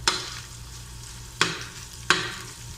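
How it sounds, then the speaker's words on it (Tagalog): Garlic and onions fry for chicken liver adobo, a steady close sizzle broken by three sharp clacks of a utensil against the pan. "Kapag medyo golden brown na po yung ano natin, garlic natin, lagay na po natin yung sibuyas natin"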